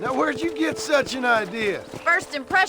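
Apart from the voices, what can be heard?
No distinct noise like a dog, phone or traffic.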